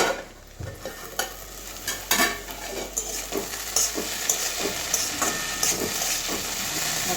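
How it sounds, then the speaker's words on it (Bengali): Prawns fry in a pan with gentle steady sizzling and hiss, punctuated by occasional clinks and scraping stirs; the frying runs close and moderate in level throughout. "আমার চিংড়ি ভাজাটা একদম কমপ্লিট হয়ে গেছে"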